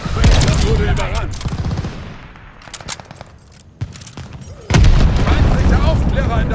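Gunfire and explosive booms from the World War II shooter game Call of Duty: Vanguard, loud and dense bursts at the start and again near the end, with game voice callouts mixed in during a quieter middle stretch.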